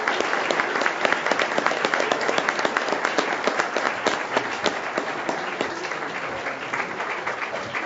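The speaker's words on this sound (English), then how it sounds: "Let's give them a round of applause." An audience at a school board meeting applauds the boys basketball state champion team, with dense, sustained clapping, loud and close, that carries on for the whole stretch without talk.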